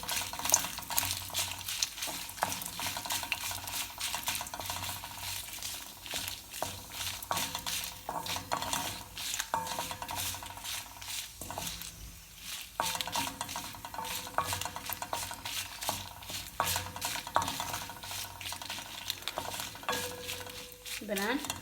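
Dried chillies stirred and roasting in a little sesame oil in a pan, a soft continuous sizzle with frequent scraping and clinking of a utensil against the pan, steady and close.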